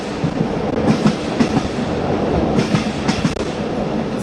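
A passenger train crossing rural North Korea toward Pyongyang rolls along the rails with a steady loud rumble inside the carriage and a repeated clickety-clack of wheels over joints.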